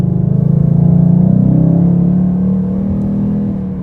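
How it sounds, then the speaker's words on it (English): A 2021 Ford Mustang Mach 1 V8 rumbles loud and deep from inside the car while driving, a steady low throb that swells slightly as the revs rise and then eases off, with no talking. "It wants to rev so high, I'm trying not to make it rev."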